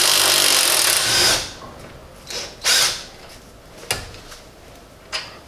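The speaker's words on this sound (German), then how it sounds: "Schlagschrauber drauf." An impact wrench loosens front brake caliper bolts on a Renault Megane 3, one long loud rattling burst, then several shorter hammering bursts and a couple of sharp clicks, close up.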